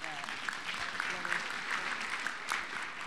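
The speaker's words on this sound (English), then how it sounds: "let's give her some round of applause" An audience claps steadily in a dense wash of applause, moderately loud and unbroken, with a voice faintly heard beneath it.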